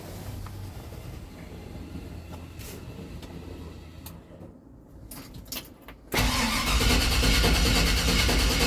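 An engine fitted with a throttle body EFI fuel injection unit cranks in a garage, then catches and settles into a loud, steady idle up close after a few seconds of quieter mechanical noise.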